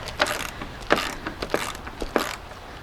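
A bolt on a Dodge Grand Caravan headlight assembly is loosened with a ratcheting tool, giving a handful of quick clicking pulls, close and alone.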